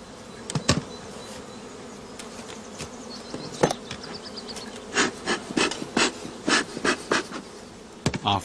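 Honeybees buzz around apiary hives near allotment gardens during a spring inspection, a steady close hum with individual bees droning past the listener and a cluster of louder passes near the end.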